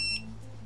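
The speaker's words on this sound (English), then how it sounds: "Oh, it beeped." A GEONFINO WiFi and Bluetooth smart lock gives one short, high, faint beep during app pairing, followed by quiet room hum.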